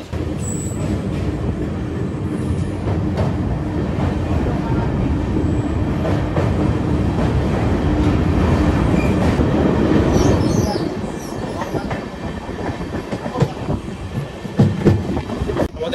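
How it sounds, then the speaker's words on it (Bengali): An express train on its inaugural Sairang–Kolkata run rolling across the Nasipur rail bridge over the Bhagirathi river, a loud, continuous rumble with rhythmic wheel clatter and faint squeals, easing after about ten seconds into lighter clacks. "অবশেষে প্রবেশ করলো আমাদের ট্রেন নসিপুর ব্রিজের উপরে"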